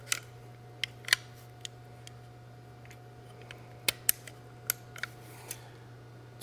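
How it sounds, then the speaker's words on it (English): The charging handle of a Typhoon F12 shotgun is fitted back in, giving a series of sharp metallic clicks and taps, scattered and close, over a quiet steady hum. "At this point, we can go ahead and reinsert our charging handle."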